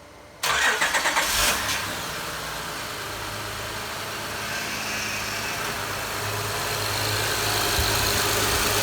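A Honda Odyssey engine, just fitted with new motor and transmission mounts, cranks briefly, catches, and settles into a steady idle that continues to the end.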